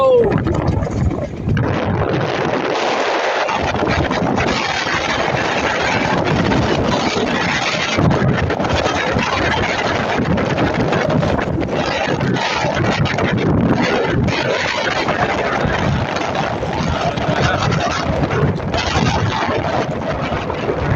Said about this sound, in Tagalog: Ang amihan malakas.